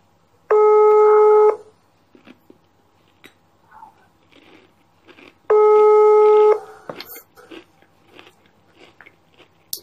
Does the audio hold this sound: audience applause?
no